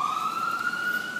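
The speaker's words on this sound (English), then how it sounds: "I dig sirens." A steady siren holds one sustained, slowly rising wail that runs loud and unbroken through the whole short stretch, with no talking over it.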